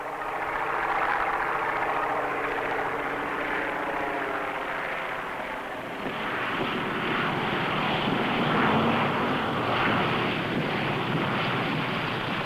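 Propeller stunt plane from 1954 coming in to land on one wheel, a loud, steady droning engine with wind rush that roughens and swells partway through.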